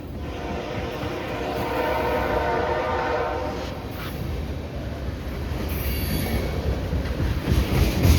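A KCS manifest freight train rolls past, its wheels grinding and squealing steadily while the horn sounds in several loud blasts, close and continuous over the rumble of the passing cars.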